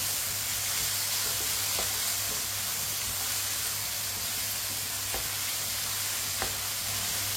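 Boiled white chickpeas being mixed into a frying bottle gourd (lauki) curry give a constant hissing sizzle throughout, with a few faint scrapes of the spoon against the pan.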